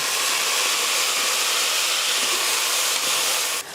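Onions and green chilies sauté in a pot toward golden brown, giving a steady, loud, close frying sizzle that holds evenly throughout with no voices.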